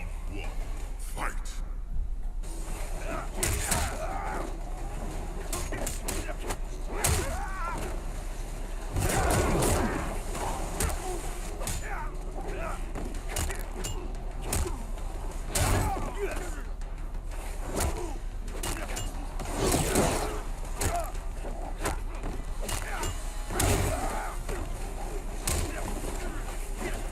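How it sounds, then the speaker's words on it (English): Mortal Kombat X fight sounds play through a gaming headset: punches, thuds and impact bursts in an irregular barrage, with someone talking over much of it. "Now I play Mortal Kombat X"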